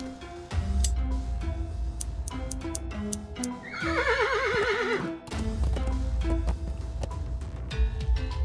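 A horse in the game Willy Morgan and the Curse of Bone Town gives a loud wavering neigh midway as its tail hairs are plucked, set against steady background music.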